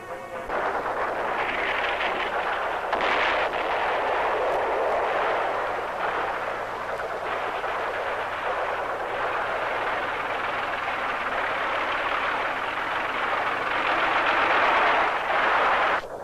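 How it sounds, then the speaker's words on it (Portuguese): A World War I artillery barrage, fired ahead of a counter-attack in the Aisne-Marne sector, rolls on as a dense, continuous rumble of distant gunfire and blasts for the whole stretch, with no voices over it. "Dia 18 de julho começou o contra-ataque precedido pela costumeira barreira de artilharia."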